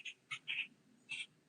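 Birds calling outdoors, a few short, faint chirps spaced irregularly against quiet background hiss.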